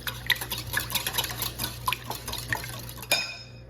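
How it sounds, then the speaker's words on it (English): Egg, oil and milk whisked together in a bowl, quick rhythmic taps and scrapes of a whisk against the bowl repeating throughout, close and clear, with a sharper clink near the end and no talking. "Just going to whisk this together until it's fully combined."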